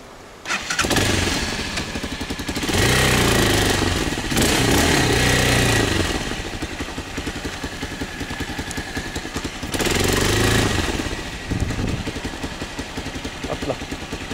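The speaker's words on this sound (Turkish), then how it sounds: "Motoru çevireyim de öyle mi?" A motorcycle engine cranks and catches, then idles with a steady mid-pitched rumble that surges twice with revving, close by and loud with no talk over it.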